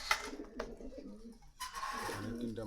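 Pigeons coo close by at a pigeon stall in Meradia Bazar, Khilgaon, Dhaka, with other bird sounds and people talking over them.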